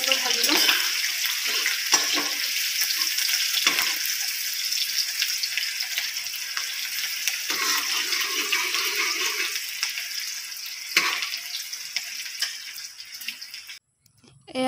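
Whole cumin, onion and bay leaves sizzle loudly in hot oil in a pan for mutton curry, a steady hissing fry with occasional stirring scrapes, ending abruptly.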